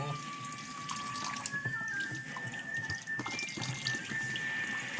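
Tap water runs steadily into a sink while balut eggs are washed, a continuous splashing flow with faint clinks and quiet voices talking underneath.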